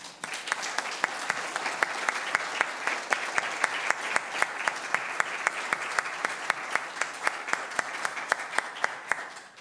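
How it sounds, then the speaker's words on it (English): A Sunday service congregation gives a round of applause, a sustained bed of many hands clapping, with one sharp rhythmic clapper standing out at an even, rapid beat throughout. "Might we offer them a round of applause?"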